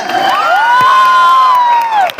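A crowd at a lively celebration cheers and whoops in a long, sustained shout that holds steady for about two seconds, close and loud, with a brief dip at the end.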